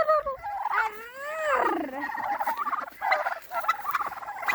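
Turkeys at a farm, puffed up and fanned out, gobble close by in loud warbling rolls, followed by softer clucks and chatter from the flock.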